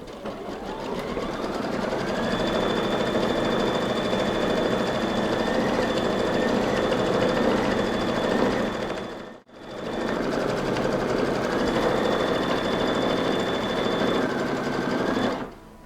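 A sewing machine runs a blanket stitch along fabric with a steady, fast, mechanical whir and needle chatter, close and continuous, pausing briefly once before resuming.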